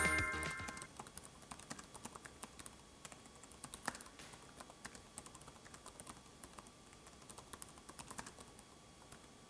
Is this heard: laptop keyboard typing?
yes